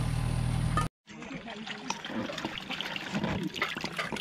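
Freshly caught snakehead fish being rinsed in water, with splashing and trickling that start after a brief cut and continue steadily for a few seconds, close by.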